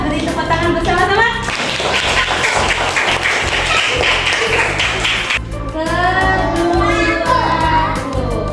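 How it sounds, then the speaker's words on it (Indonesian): A class of children claps together in rhythm, loud and sustained for several seconds, with voices and teacher talk before and after the clapping. "Kita beri tepuk tangan bersama-sama."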